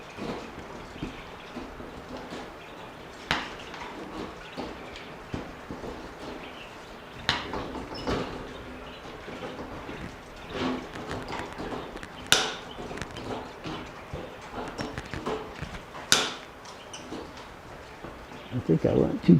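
Hand cutters snip wire mesh for a quail transport cage door, sharp irregular clicks and snaps scattered over about twenty seconds amid workshop handling noise and low background sound.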